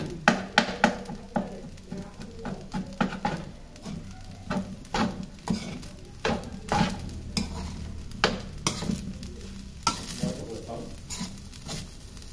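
A spatula scrapes and stirs garlic fried rice in a hot pan, rhythmic scraping strokes about every half second over a steady soft sizzle, close and fairly loud, with little talk.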